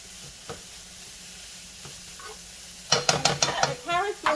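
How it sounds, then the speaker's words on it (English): Carrots being stirred into a frying pan for black bean burgers: a quiet stretch, then a burst of scraping, clattering stirs with a light sizzle over about a second and a half, close and fairly loud, with no talking. "I'm going to go ahead and add my carrots. And give that a nice stir."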